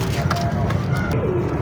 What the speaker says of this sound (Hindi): ये कबूतर ये पड़ा हुआ है।